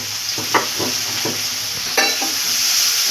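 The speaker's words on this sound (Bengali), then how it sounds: "এবার এটাকে আমরা ভালো করে ভেজে নেব" Mixed vegetables with black pepper and turmeric powder frying in a pan for chowmein, a loud steady sizzle with a few scraping stirs of a spatula, no talking.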